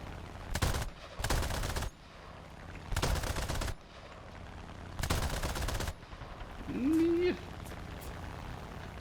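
Several long bursts of rapid video game machine gun fire from bomber gunners aimed at an A6M5 Ko Zero fighter, spaced apart and fairly distant, with a short vocal noise near the end.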